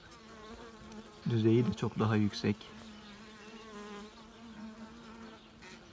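Native honey bees buzz steadily at the hive entrance, a constant low hum running beneath someone talking close by.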